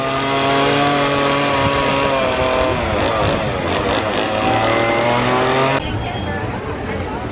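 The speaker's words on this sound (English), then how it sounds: "He's working with a chainsaw." A chainsaw engine whines and roars loudly nearby as it carves pumpkins at Dollywood, its pitch rising and dipping as it cuts, with crowd noise underneath.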